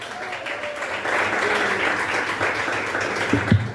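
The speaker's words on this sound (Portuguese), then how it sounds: "Palmas e glória a Deus." A church congregation applauds during a service about tithing, a steady wash of many hands clapping that swells and holds, with a voice speaking over it and a couple of louder thumps near the end.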